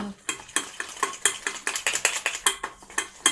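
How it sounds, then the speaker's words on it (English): Whisk beating flour batter in a bowl for homemade fried chicken, a quick run of rhythmic clinking strokes against the bowl, close and clear with no talking. "And I'm going to whisk this up."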